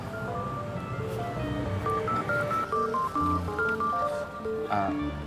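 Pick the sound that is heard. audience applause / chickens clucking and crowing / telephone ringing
telephone ringing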